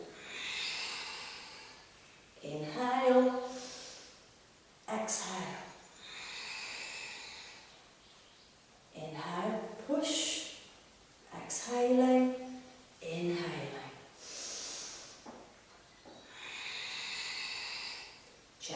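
Deep yoga breaths, slow drawn-in inhales and long audible exhales in a relaxed cycle, close to the ear, with gaps of quiet between each breath.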